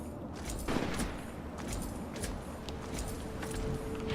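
A heavy hard-hitting gun firing in Fallout 3, a series of sharp separate blasts spaced about half a second apart, fairly faint against a steady noisy game background.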